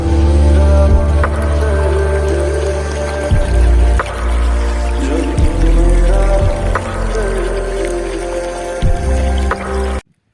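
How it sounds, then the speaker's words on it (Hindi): An irrigation motor pump runs with a loud, steady low hum and rumble beside a wheat field, while water pours and splashes continuously into the crop throughout. "यहाँ पे चल रही है मोटर, यहाँ पे चल रहा है गेहूं में पानी"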